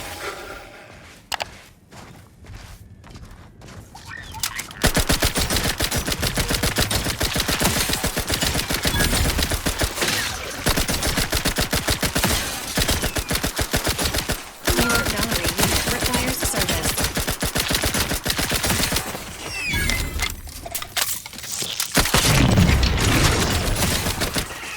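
Rapid automatic gunfire in The Outer Worlds 2 rattles loud and near in long sustained bursts, broken by a few brief gaps, after a quieter start.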